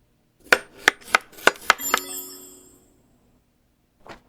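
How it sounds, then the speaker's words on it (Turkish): Five quick, sharp knife chops on potato in the game Chef Life: A Restaurant Simulator land in a steady rhythm, followed by a bright ringing chime that fades, then one more soft thud. "Şuradan patatesi doğrayalım."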